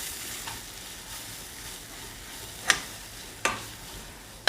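Spices frying in a pan for hotel-style parotta sherva, a soft steady sizzle with a few sharp spoon clicks against the pan as they are stirred.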